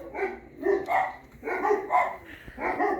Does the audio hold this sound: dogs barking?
yes